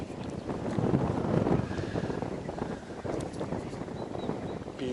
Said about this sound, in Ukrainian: Вітер дуже сильний